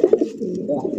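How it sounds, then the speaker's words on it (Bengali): A racer pigeon coos close by, a few soft throaty pulses at the start followed by a low continuous rolling coo. "আরো একজন রেসার, রেসার কবুতর মাশাআল্লাহ"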